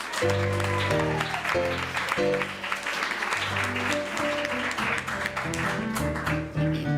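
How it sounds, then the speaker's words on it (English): Audience applause at a Monday evening musical show, steady and fairly loud clapping filling the room for several seconds, with a music-like tonal bed running underneath. "Let's give a big round of applause."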